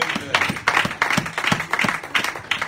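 A church congregation claps in a steady rhythmic beat during a worship service, moderately loud and close, with faint voices beneath.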